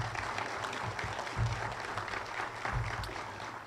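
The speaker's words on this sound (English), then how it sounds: "So let's give our board a round of applause for the work that they do to support us." An audience at a school district superintendent's celebration applauds the board; steady, moderately distant clapping with a low hum beneath and a few louder swells.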